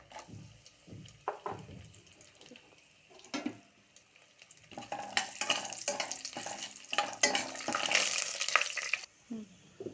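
Cashew and almond pieces with raisins, cloves and cinnamon frying in a pan for coconut rice, with quiet scattered clinks and stirring at first, then louder sizzling and scraping that builds and stops abruptly near the end.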